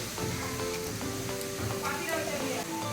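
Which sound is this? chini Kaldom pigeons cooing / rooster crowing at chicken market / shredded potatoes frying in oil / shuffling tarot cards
shredded potatoes frying in oil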